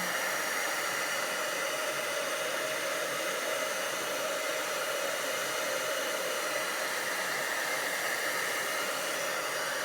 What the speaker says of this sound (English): It's completely different once you've heated it with your heat gun.